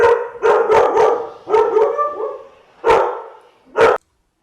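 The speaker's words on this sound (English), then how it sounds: "dogs came in, started barking" Dogs bark loudly and close in several bursts, a quick cluster of yips and barks followed by a few single barks.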